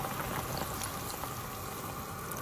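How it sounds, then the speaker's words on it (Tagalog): Cornstarch slurry poured into a boiling pot of soup, a steady liquid splash and trickle over the bubbling boil, continuous and close throughout. "kumukulo na guys. Ilagay na natin yung pampalapot."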